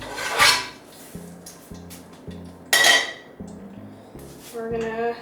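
A cooking pan is pulled out and set down with metallic clanks and scraping while rice is about to be made. A handful of loud clatters stand out over a rhythmic low rumble, with some speech.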